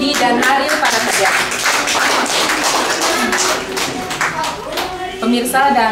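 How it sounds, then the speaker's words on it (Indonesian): Continuous dense clapping from a studio audience on a Galungan-themed Hindu television program in Bali, steady and fairly loud throughout, with brief voices and musical tones mixed in. "Beri tepuk tangan untuk Putri,"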